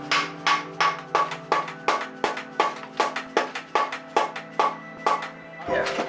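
A claw hammer strikes metal on an engine cylinder head during a 7M-GE rebuild, about a dozen sharp, evenly spaced blows ringing close and loud over a steady background hum.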